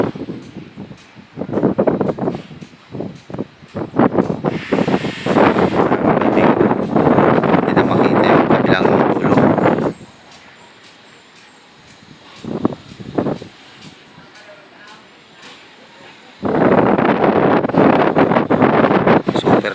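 Strong wind buffeting the microphone in cold, foggy weather with light drizzle, loud gusty roaring in long stretches separated by calmer, quieter lulls.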